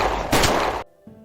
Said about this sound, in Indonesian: Louis harus mati terkena tembakan Hal.